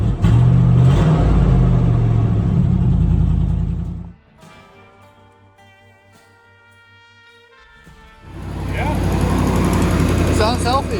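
Engine of a 1988 Range Rover Classic with an exhaust leak, a loud rumbling idle with revs that cuts out midway, leaving a quiet tonal hum before the engine roars back loud near the end.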